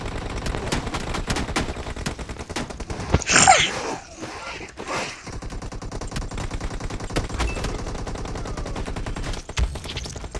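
Rapid automatic gunfire in a zombie-mode video game, dense repeated bursts that run almost without pause, broken by a brief louder blast, with no voices.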